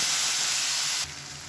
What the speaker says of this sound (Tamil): இப்போ இது எல்லாமே நல்லா வதங்கிட்டு இருக்குது.